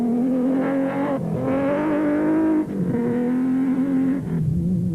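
A V6-powered Nissan endurance racing car runs at high, steady revs, its engine note sustained and dipping briefly at gear changes, loud and close in the open air without speech.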